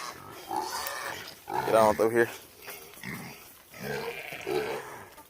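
Pigs on a farm squeal and grunt while waiting to be fed, with a louder burst of high squealing in the middle, heard close by under someone talking.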